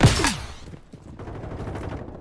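A cluster bomb strike in Call of Duty Warzone on Rebirth Island: a sharp, loud burst of explosive blasts at the start that quickly decays into a lower rumble.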